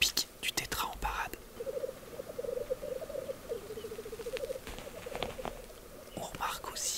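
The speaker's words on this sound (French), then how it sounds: "C'est le son typique du tétra en parade." Black grouse display call in the mountains, a long run of rapid bubbling, cooing notes repeated steadily across the clip at moderate distance, with brief clicks and rustles at the start and end.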